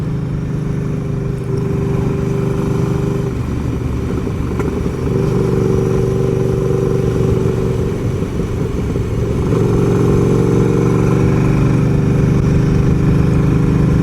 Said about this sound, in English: how about we rip around on my Triumph?